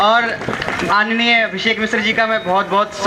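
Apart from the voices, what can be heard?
No everyday noise stands out behind the speech.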